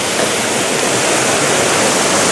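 Close, steady rush of river water running near a bamboo-lined path, a continuous broadband wash with no voices over it.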